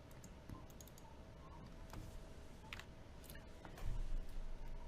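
Keys tapped on a computer keyboard while shipping details are entered into an online order form, a quiet irregular run of light clicks with one slightly louder burst near the end.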